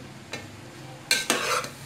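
A spoon stirring vegetables, garlic and chicken frying in a pan for chicken Manchurian, with a couple of brief scraping strokes over a soft sizzle, close and quiet with no voices.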